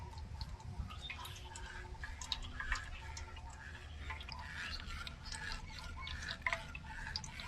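Mango juice being strained at home, with soft irregular drips and small liquid splashes recurring throughout at low, steady volume and no voices.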